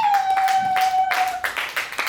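A church congregation claps in praise of the Lord, with several bursts of hand claps in loose rhythm over a sustained tone, close and fairly loud.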